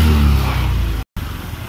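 A Beat motorcycle with an intermittent error code 52 tied to its CKP sensor runs with a low, steady engine hum, then cuts out for a moment before the sound resumes.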